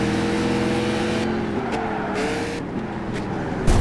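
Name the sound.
Shelby car engine in Gran Turismo 5 video game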